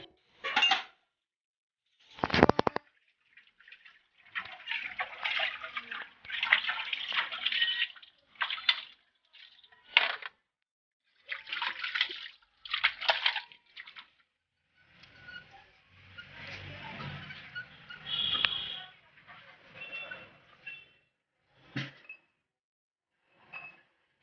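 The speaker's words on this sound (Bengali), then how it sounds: "একটু কাপড় টাপড়গুলো আমি আমার ধুয়ে নিই" Clothes being washed by hand with water, bursts of splashing, wringing and slapping coming in irregular spurts with brief pauses, close and moderately loud, no talking.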